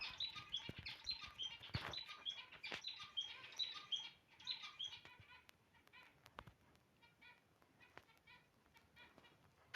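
Birds chirp busily in rapid overlapping tweets, loud at first and thinning out, with scattered thumps and knocks nearby.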